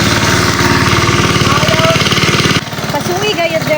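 A child imitates a motorcycle engine with the voice, a steady buzzing, pulsing drone held for over two seconds, then breaking into shorter vocal sounds and talk.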